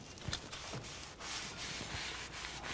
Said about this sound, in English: We just use it here to wipe off the rotor face.